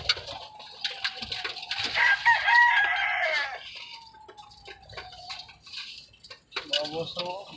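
A flock of chickens with a rooster nearby, crowing loudly more than once alongside scattered clucks, while people talk in the background.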